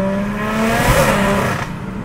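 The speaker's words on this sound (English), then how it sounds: "Oh man, quick spooling as well." An 880bhp BMW M140i running a big turbo on pump fuel pulls hard under acceleration, its loud close engine note rising steadily over two seconds with turbo spool.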